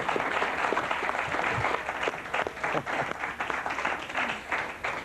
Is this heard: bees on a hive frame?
no